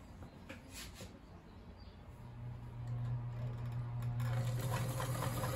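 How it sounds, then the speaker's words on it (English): A Kenmore sewing machine stitching, a steady whirring motor drone that grows a little louder and stronger partway through, close and continuous with no talk. "All right, now we're gonna sew with it."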